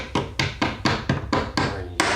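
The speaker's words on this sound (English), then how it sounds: "Get the hammer." Hammer strikes while building a homemade sliding soap cutter: eight sharp, evenly spaced blows about a quarter second apart, close and loud, with no talking.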